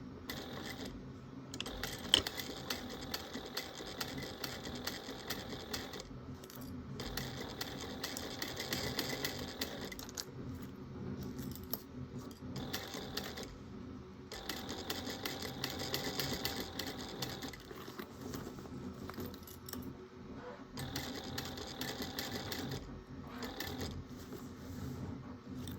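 Brother sewing machine stitching a 1/4 inch seam with light gray thread on a bag, a fast steady mechanical whirr in bursts separated by short pauses, fairly quiet.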